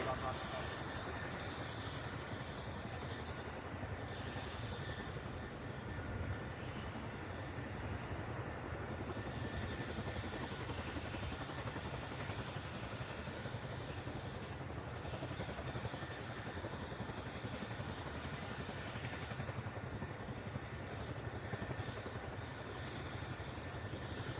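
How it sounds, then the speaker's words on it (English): A helicopter climbs in a gentle corkscrew into a hover at the Farnborough airshow, producing a steady, distant, unbroken engine and rotor drone that holds evenly throughout. "As the aircraft gently corkscrew climbs into the hover"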